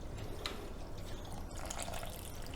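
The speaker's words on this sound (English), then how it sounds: "So we want 350 grams of water," Water is poured into flour for sourdough dough, giving a faint, close trickle and splashing with small drips and no speech.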